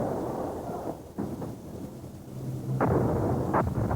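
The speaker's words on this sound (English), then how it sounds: "As light faded, Serbian artillery in the mountains began their bombardment of the city. The heavy guns seen firing from hilltops to the right of the picture." Heavy artillery guns fire on a city from mountain hilltops at dusk, producing deep booming rumbles and sharp distant blasts that roll continuously with no talk.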